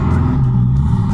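A Renault 5 Turbo 2 car idling and rumbling from inside the cabin, a steady low engine drone, loud and close, with no clear acceleration in the brief moment.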